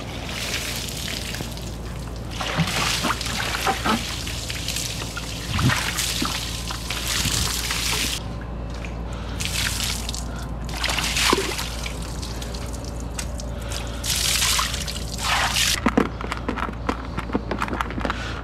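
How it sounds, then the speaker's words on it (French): Water rinsing down a motorbike being washed after racing, a steady running spray and trickle with splashing bursts, close and continuous. "Et je crois que ça va être l'heure de rincer la bécane."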